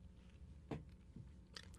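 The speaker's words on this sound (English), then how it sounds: "I'm chewing on a cough drop here" Close crunching as a cough drop is bitten and chewed in the mouth, a few sharp cracks spaced across a brief, quiet moment.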